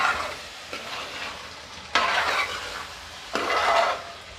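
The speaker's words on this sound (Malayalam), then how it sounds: "നമ്മളിതേ വറുത്ത് വെച്ചിരിക്കുന്ന നമ്മുടെ തേങ്ങാക്കൊത്തും കൂടി ഇടുവാണ് കേട്ടോ" Pork fry in a pan, with fried coconut pieces being stirred in, sizzling steadily up close while a spatula scrapes through it in three louder bursts.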